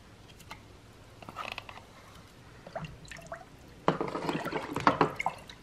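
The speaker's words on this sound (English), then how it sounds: "Now I'm gonna add it to my warm milk and stir it in." Gelatin being stirred into warm milk in a cup, soft liquid sloshing and dripping with small clinks, quiet at first, then busier and louder toward the end.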